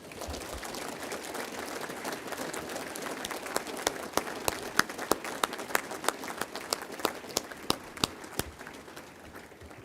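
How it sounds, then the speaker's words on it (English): Banquet audience at a basketball hall of fame award ceremony breaks into steady applause, a broad wash of many hands with some sharper individual claps standing out near the middle, moderately distant. "Now you may applaud."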